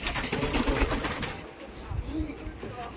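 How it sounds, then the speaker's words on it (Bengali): Giribaz pigeons at a loft-style pigeon farm coo softly and continuously through a dense, steady bed of bird sound, with faint voices mixed in now and then. "এগুলো তো গিরবাজ কবুতর আছে নাকি সব?"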